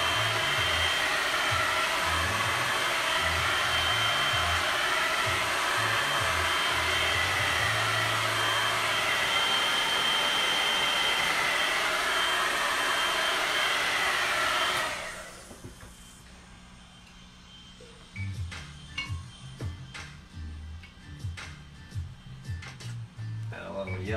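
Hair dryer blowing steadily to dry acrylic paint on a painted tree trunk, a loud continuous whoosh for about fifteen seconds that cuts off, followed by quiet brush and handling sounds.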